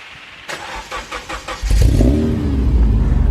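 A Honda Accord Euro CL9 engine revs in a few quick pulses, then pulls into a loud, steady acceleration on a drive, close and unaccompanied by talk.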